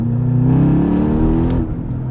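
A 2022 Porsche Panamera GTS Sport Turismo tuned to around 800 horsepower pulls at full throttle, a loud, close engine drone with climbing harmonics that rises steadily before easing off near the end.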